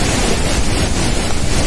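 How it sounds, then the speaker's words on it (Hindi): Waterfall near Kalpeshwar temple in the Urgam Valley, its water blown into spray by the wind: a steady, loud broadband roar of falling water mixed with wind buffeting the microphone, with no talk. "गिरते हुए झरने का जल जब हवा के साथ फुहारों के रूप में उड़ रहा है"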